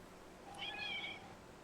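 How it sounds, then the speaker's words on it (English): A domestic cat gives a single soft, high meow, faint and brief against a quiet background room hum. "Did you hear my cat?"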